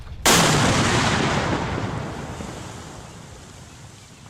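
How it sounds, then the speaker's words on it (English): A sudden heavy blast of an explosion erupts, then a long rumbling roar slowly fades over several seconds, loud and alone. "hunkered down until the blasts died away"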